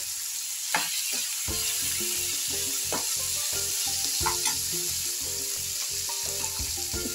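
Masala with mint frying in a pan for vegetable biryani, a continuous loud sizzle with a regular tapping of the spoon against the pan, close up.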